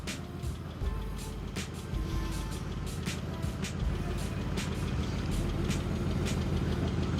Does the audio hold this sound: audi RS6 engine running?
yes